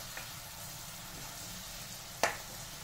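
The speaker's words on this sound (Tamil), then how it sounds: "சக்கரை பாகு கெட்டி ஆகுற வரைக்கும் நம்ம கேரட்டை வதக்கணும்" Carrot sautés in thickening sugar syrup in a pan, giving a soft, steady sizzle throughout, with one sharp utensil clack near the end.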